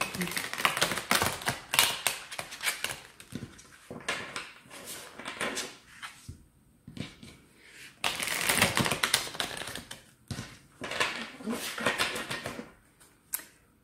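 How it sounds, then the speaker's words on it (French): A large deck of very thick cards is shuffled in rapid bursts of riffling, flapping clatter that pause and restart, close and fairly loud, with no talk. "ces cartes-là, j'ai toujours du mal à les mélanger parce qu'elles sont très épaisses et très nombreuses"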